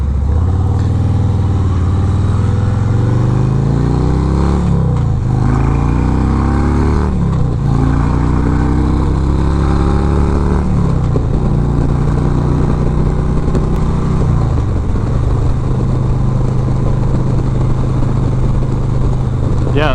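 A 2020 Harley-Davidson Road Glide Special with a Milwaukee-Eight engine rumbles loudly up close, revving up and down repeatedly with rising and falling pitch before settling into a steady idle.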